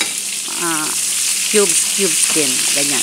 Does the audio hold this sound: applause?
no